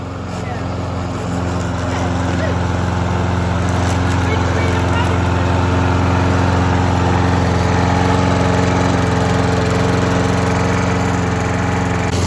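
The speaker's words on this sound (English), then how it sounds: "first time using a lawnmower" A lawn mower engine drones loudly and continuously nearby, a steady motor hum that holds throughout without pause.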